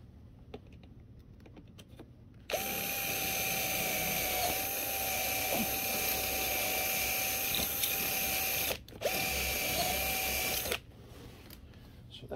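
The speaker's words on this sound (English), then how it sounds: "now I'm going to drill through this one down here" A power drill bores through a patio umbrella under repair, whining loudly and steadily for several seconds, pausing briefly, then running again before stopping.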